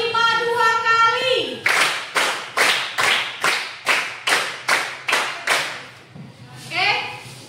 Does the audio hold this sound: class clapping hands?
yes